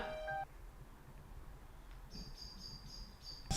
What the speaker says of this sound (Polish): ptaki już śpiewają ranne